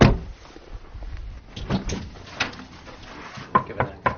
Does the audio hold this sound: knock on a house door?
yes